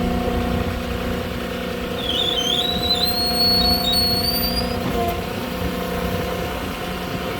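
A Moffett forklift engine idles and drones steadily up close while unloading a pallet of gravel, with a rising whistle-like whine over the hum and a brief clunk near the end.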